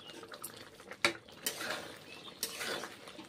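Soft clinks and scrapes of a spatula or spoon against a pan while mutton curry is stirred and sautéed, with a sharp metallic knock near the start and a longer sizzling scrape later, fairly quiet and with no talk.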